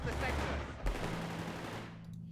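Gunfire from infantry squads in the Company of Heroes 3 strategy game, with rapid rifle and machine-gun shots crackling in a dense volley under game noise, fading out toward the end.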